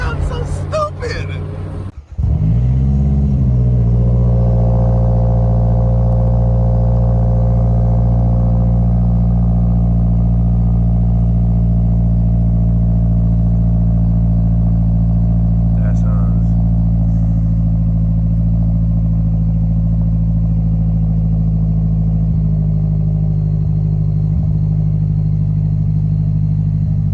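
A 2010 Mazda Speed 3 with a CorkSport axle-back exhaust fires up from cold: a brief starter crank, then a loud, steady, deep idle that drones on close by for the rest of the clip.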